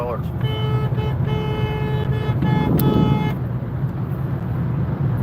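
A car horn sounds in a string of short honks and one longer blast over steady road and engine noise, close by.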